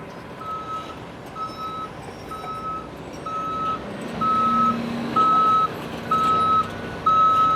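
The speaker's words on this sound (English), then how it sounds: "you'll hear this horn beep again to let them know that they're in place and they're ready to get loaded" A truck backs up on a heavy civil construction site, its reversing alarm beeping in a steady repeating rhythm over engine rumble, growing louder toward the end, with no talk.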